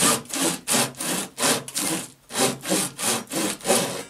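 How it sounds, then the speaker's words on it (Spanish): A handsaw cuts downward through bookbinding material in about nine even, rhythmic rasping strokes, close and clear with short gaps between them, no voices. "como yo en mi oficio utilizo este serrucho, resulta que me va mejor. El corte es hacia abajo."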